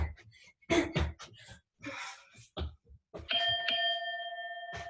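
An electronic bell rings at the end of a boxing cardio workout round, a single sustained tone that follows grunting, hard breathing and punching noises.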